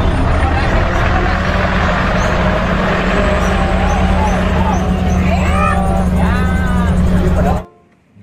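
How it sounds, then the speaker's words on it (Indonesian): A large sand dump truck rumbles loudly and steadily close by, with a hiss like an air brake. Voices chatter over the engine before it cuts off abruptly at the end. "Wow, ada dump truk pasir super besar teman-teman."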